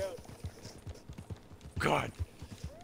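Horse hooves clip-clopping in the video game Red Dead Redemption 2, a steady rhythmic trot of soft thuds running under players' voices, with one louder vocal burst in the middle.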